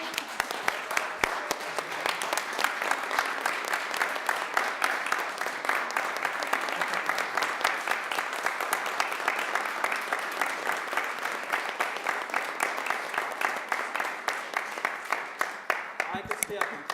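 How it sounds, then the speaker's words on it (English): A city council meeting audience gives sustained applause to honor a staff member's 30 years of service; dense, even clapping continues for about seventeen seconds at moderate distance. "Can we give her a round of applause?"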